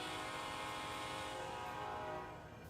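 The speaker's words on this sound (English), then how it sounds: "So that is the horn" A locomotive horn in the train video game Rails Unlimited sounds as one sustained multi-note chord, steady and fairly quiet, then tapers off at the end.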